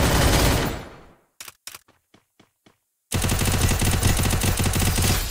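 Gunfire in the Free Fire battle royale game: a dense sustained roar of automatic fire fades out, then a handful of sharp separate shots follow in near silence before another loud continuous burst of rapid fire starts.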